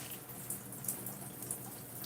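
Water is sprayed or added to hair during styling, a faint, steady hiss of liquid with a few soft drips and taps, with no voices.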